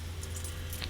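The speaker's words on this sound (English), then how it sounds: "finding the keys now" Car keys jangle briefly and softly at close range, a light metallic rattle over a low background hum.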